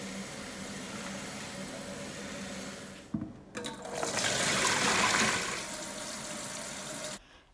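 Tap water running into a kitchen container to soak Brussels sprouts, a steady hiss that swells into a louder gush midway, then cuts off abruptly near the end.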